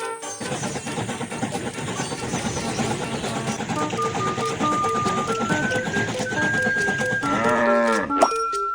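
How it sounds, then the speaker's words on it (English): Cartoonish bleats from sheep on a train track in a railway-building game, over steady train rumble and bright game music, with a cluster of higher bleats near the end. "Some sheep are on the train track."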